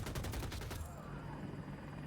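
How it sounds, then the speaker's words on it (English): Enemy gunfire in Battlefield 2042 during a rooftop air raid: a rapid automatic burst of shots for under a second, then a lingering roar of noise, heard from a distance at moderate level. "they're shooting at us right here"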